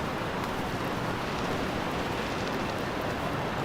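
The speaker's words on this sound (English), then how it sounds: "they have those flaps, like tarps, surrounding the different construction windows, and they're flapping violently" Construction tarps on a Manhattan street flap violently in strong early-morning wind, heard as a constant, dense roar of wind and fabric noise with no pauses.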